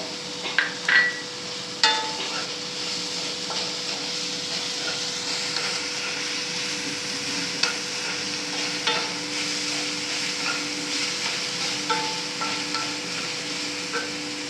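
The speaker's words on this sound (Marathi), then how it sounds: "आता खमंग होईपर्यंत परतायचं." Vermicelli upma with capsicum is sautéed in a pan, with continuous sizzling and repeated knocks and scrapes of a spoon stirring close by.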